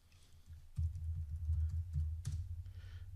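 Soft keystrokes on a computer keyboard as a password is typed, a quiet, close run of uneven taps with a few sharper presses standing out.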